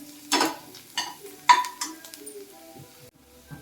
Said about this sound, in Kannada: ಅರಿಶಿನ ಪುಡಿ ಹಾಕ್ತಾಯಿದ್ದೀನಿ, ಅರ್ಧ ಸ್ಪೂನು ಹಾಕಿ ಚೆನ್ನಾಗಿ ಫ್ರೈ ಮಾಡ್ಕೋಬೇಕು